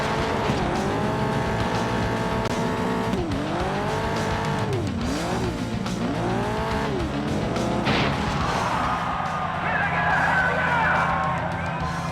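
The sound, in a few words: race car engine and tires in a racing video game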